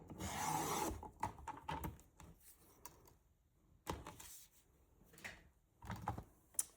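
A piece of wood is cut in a few short, scraping strokes that come in separate bursts, with quiet pauses between them, close by and alone.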